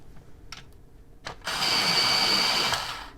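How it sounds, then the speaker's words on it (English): A Prismacolor colored pencil in an electric sharpener: a couple of soft taps, then a loud steady grinding whir lasting over a second before it winds down. "I'm going to sharpen it though."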